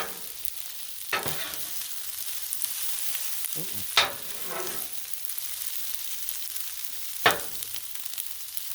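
Turkey stir fry sizzles steadily on a Blackstone griddle, a close, continuous crackle broken by a few sharp spatula scrapes and clanks.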